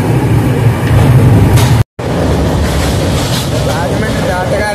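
An express passenger train runs at speed on the line to Gudur, a loud steady rumble of wheels and carriage noise filling the clip, with a brief dropout near two seconds and faint chatter inside the crowded coach.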